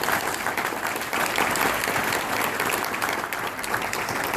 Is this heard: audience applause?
yes